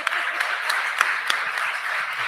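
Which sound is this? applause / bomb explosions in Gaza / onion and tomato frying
applause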